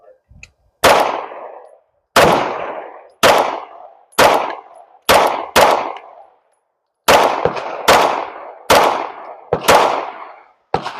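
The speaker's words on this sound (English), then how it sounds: "All right, that was the Glock." A Glock 19 9mm pistol fires ten rounds, loud sharp cracks each ringing out with a short echoing decay, spaced roughly a second apart with one longer pause midway.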